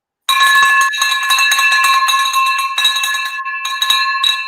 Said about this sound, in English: they said we deserve a bell ring.